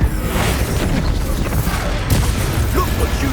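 A Confringo fire spell blasts in Hogwarts Legacy, a loud booming burst with crackling debris, set against dense, continuous game combat noise.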